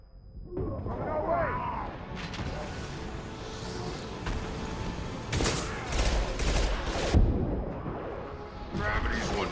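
Gunfire in the Mass Effect 2 game, bursts of sharp shots and impacts growing denser toward the middle, mixed with shouted voices and battle noise.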